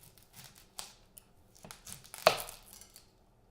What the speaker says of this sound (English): Chopping the sweet onion,